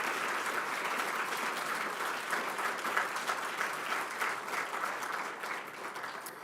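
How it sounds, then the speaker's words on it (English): An audience at a conference closing ceremony breaks into steady applause, a dense wash of many clapping hands that holds for several seconds before easing off slightly, with no voices on top. "a round of applause to all of them"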